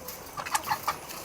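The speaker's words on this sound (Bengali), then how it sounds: "লেয়ার মুরগি" White layer hens on a poultry farm give a short run of about four quick, close clucks over a low background hum.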